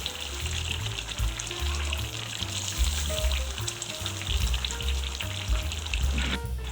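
Chopped green chilies frying in a chicken karahi, giving a steady, close, loud sizzle with oily crackle and occasional stirring scrapes throughout, with no voices.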